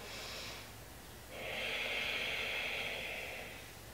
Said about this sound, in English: deep breath in. And exhale